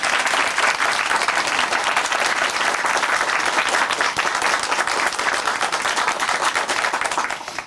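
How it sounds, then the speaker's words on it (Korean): Sustained applause from a studio audience on a Korean Christian testimony TV program, dense and steady throughout with no talk, tapering slightly at the end. "박수로 응원해 드리겠습니다."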